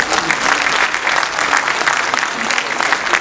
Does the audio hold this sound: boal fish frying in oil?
no